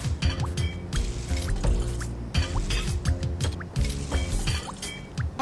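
Evaporated creamer poured into rice for nasi lemak, a close, steady liquid glugging and splashing with irregular drips and gurgles that continue unbroken for several seconds, with no talk.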